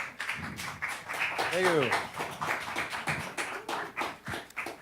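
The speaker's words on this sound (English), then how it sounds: "Please give him a warm applause of welcome to Kesivan" An audience claps to welcome a speaker to the stage, a scattered run of hand claps mixed with crowd murmur, while a single voice speaks briefly amid the applause.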